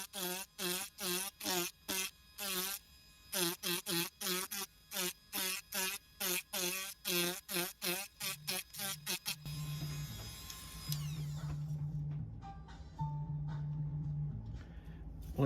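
An Automach power carving tool cuts into wood on a 'Three French Hens' carving, giving a steady buzzing grind with shifting pitch through the second half, after a stretch of rhythmic voice-like pulsing tones.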